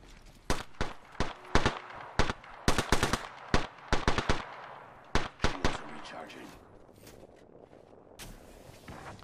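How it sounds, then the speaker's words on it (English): Gunfire in the video game Apex Legends: sharp, loud bursts of automatic shots in quick clusters, tapering to quieter, more distant shots toward the end. "Firing on subject. Taking fire."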